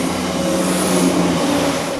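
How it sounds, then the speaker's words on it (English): A fast train rushing past, a loud steady roar of wheels and wind with a faint tonal hum, sustained for the whole stretch without talk. "Fast train."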